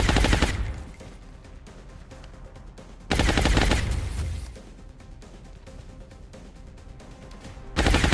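Rapid bursts of gunfire from a big gun in the XCOM Long War strategy game, loud dense volleys opening the clip, another burst midway and a third starting at the end, with quieter game ambience between.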